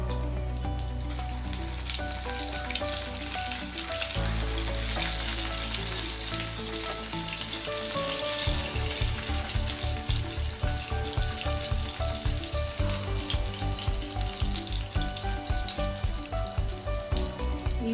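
Fish pieces fry in a pan of oil on a low flame for a Tamil-style meen varuval. A continuous, even sizzle runs throughout beneath rhythmic background music.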